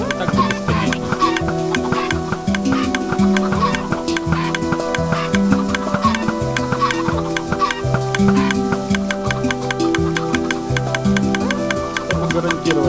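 Minecraft chickens clucking on an automatic poultry farm, with repeated soft clucks close by over a rhythmic, tonal game backing, and no talking.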